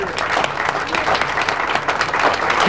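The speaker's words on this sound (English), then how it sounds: "I think they all deserve a round of applause." Steady applause from a gathered crowd honoring construction workers at an outdoor building topping-out ceremony, dense clapping sustained for a few seconds without pause.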